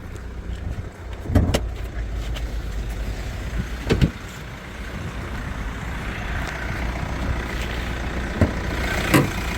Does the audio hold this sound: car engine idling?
yes